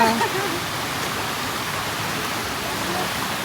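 Flowing water beside a cafe in Antipolo, a steady broadband rush like a small waterfall or stream, continuous and fairly loud, with a brief voice at the start.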